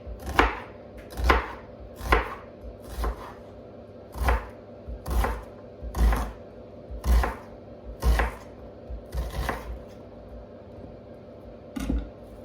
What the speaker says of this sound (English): do a nice little fine dice of the onion